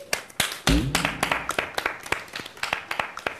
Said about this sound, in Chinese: 让我们掌声欢迎王传君老师